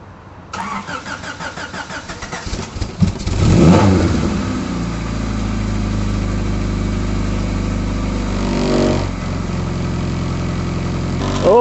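A Honda CRX Si engine cranks and starts, then settles into a loud, rough idle with a strong exhaust vibration that swells briefly before steadying.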